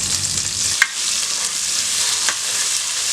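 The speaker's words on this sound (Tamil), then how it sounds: "ஒரு 10 சின்ன வெங்காயத்தை எடுத்து இந்த எண்ணெய்க்குள்ளேயே போட்டுருங்க" About ten small onions fry in oil for a green gram and greens kulambu, a loud, even hiss of sizzling with a couple of brief spoon clicks against the pan, no voices.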